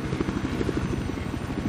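A Little Bird helicopter in the video game Battlefield 4 gives a steady, fast rotor thump, moderately loud and without talk, for under two seconds.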